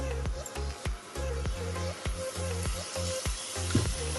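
Tomatoes go into vegetables with capsicum frying in a pan for restaurant-style vegetable egg spring rolls, a steady close sizzle broken by repeated sharp clatters of stirring.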